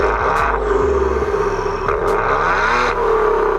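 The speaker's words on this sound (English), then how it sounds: "the exhaust note on these is actually pretty good" A 3-liter twin-turbo V6 Maserati Ghibli sends out a loud, steady exhaust note with a deep, continuous engine drone that rises and falls slightly, heard alone without voices.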